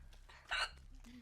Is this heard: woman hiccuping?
yes